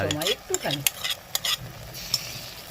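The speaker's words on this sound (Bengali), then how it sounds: "এবার এটাকে হালকা করে নেড়ে নেবো দেখো একটু হালকা নেড়ে চেড়ে নিতে হবে" Cauliflower manchurian coated in cornflour is stirred in a frying pan, giving a close, steady sizzle with repeated scraping and clinking strokes of a utensil against the pan.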